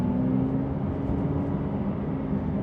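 A Porsche 911 S/T pulls away gently at low speed, its engine giving a steady, moderately loud drone with a low hum and no voices.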